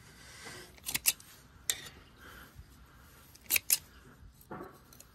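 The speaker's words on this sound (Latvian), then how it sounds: "Un to būs ar video, kā viņus tagad griež." Sharpened scissors make a few sharp, close snips spaced irregularly over a quiet background, with two cuts grouped close together near the end and no talking.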